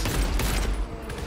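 Gunfire in the video game GTFO, a dense, loud burst of rapid shots crackling and booming together throughout the short moment, with no pauses.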